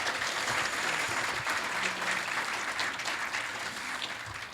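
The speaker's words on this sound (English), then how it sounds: "Another round of applause for the Andersons," An audience at a ceremony gives a round of applause for the Andersons, lively dense clapping with occasional sharper individual claps, sustained throughout and softening slightly at the end.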